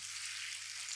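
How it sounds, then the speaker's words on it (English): Food sizzling and frying fiercely after being dropped into hot oil, a bright continuous crackle that stays loud and close throughout the brief moment, with no talking. "So you can hear our oil is quite hot. It is hot. We just get them in. And it gets that lovely kind of sizzling."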